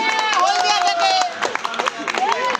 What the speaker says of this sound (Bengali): ওনার জন্য একটা জোরে হাততালি।